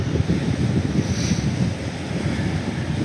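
Baltic Sea waves washing onto the shore at Cape Arkona on Rügen, a continuous close splashing and rumbling surf mixed with strong wind buffeting the microphone.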